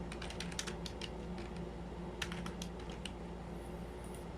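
Steady typing on a computer keyboard while text is entered into a website editor, a continuous quick patter of key clicks with a few louder taps over a constant background hum.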